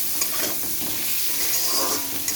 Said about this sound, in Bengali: নুন হলুদ দেবো একটু, ভালো করে কষিয়ে নেব।